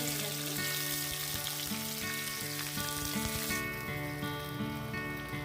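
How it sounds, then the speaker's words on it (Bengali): Soft, salted and sun-dried mango pieces fry in oil for pickle, giving a steady loud sizzle and crackle close up, with steady tonal hum running beneath. "তেলের মধ্যে ভালো করে ভাজা ভাজা করে নেব।"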